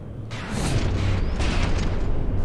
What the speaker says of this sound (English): New cram barrage incoming